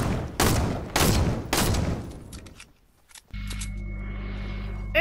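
Bursts of rapid gunfire in the video game Fortnite, three loud heavy volleys followed by scattered lighter shots, then a steady low electronic hum takes over.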